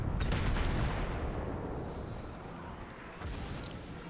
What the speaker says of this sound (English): That Cleveland's firing at us.